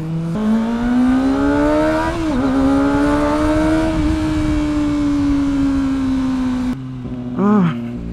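A Kawasaki ZX-25R motorcycle's four-cylinder engine screams at high revs while riding, a steady loud whine that rises and dips as the throttle changes, then drops briefly before a short rev blip near the end.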